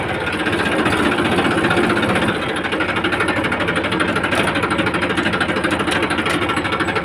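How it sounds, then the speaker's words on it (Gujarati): A farm tractor engine runs steadily and close by, a continuous loud mechanical drone with a rapid knocking pulse throughout and no voices. "આ છે ટ્રેક્ટર"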